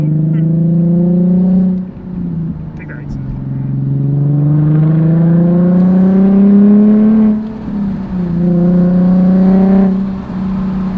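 A Nissan 370Z Nismo fitted with a Tomei Ti Expreme exhaust drives along, its engine droning and rising and falling in pitch as it accelerates and eases off, loud and steady throughout, with someone speaking briefly over it.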